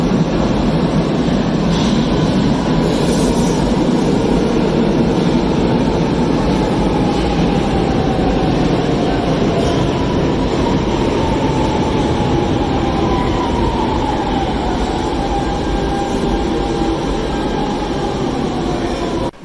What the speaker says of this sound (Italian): Si riprende ora la metro con una ML99 degli anni 2000.